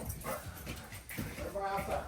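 A farm dog gives short, yippy barks and whimpers up close. People talk over the sounds, and a few higher, whiny yelps come near the end.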